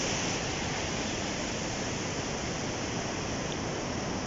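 Steady, loud rushing roar of a waterfall along the Kedarnath trek near Bhimbali, a dense continuous wash of falling water close by with no voices.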